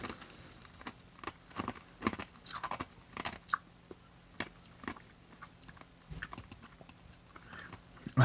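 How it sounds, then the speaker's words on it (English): Ice cubes get crunched and chewed close to the mic, a run of irregular crisp bites and grinding crunches over several seconds in a quiet room. "Nearly swallowed an ice cube."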